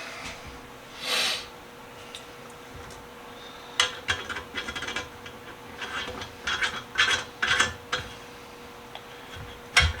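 A nut with a flat washer being tightened onto a bolt while an old heater is turned into a lamp, giving irregular close metallic ratchet-like clicks and scraping rubs in short bursts, no voices.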